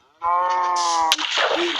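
A cow in Minecraft lets out a loud, drawn-out moo, followed by a sharp crack and a second, noisier lowing sound, up close with no talking.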